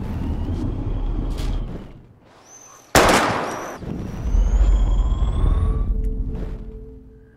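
A single sharp, loud gunshot from Life is Strange as bottles are shot at, rising out of quieter ambient tones and followed by lingering rumble and ringing.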